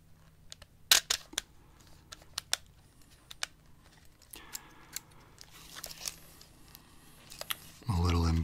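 Film camera handled up close and quiet, with scattered sharp mechanical clicks and ticks, soft rubbing and a couple of louder snaps, ending in a brief burst of dense rattling.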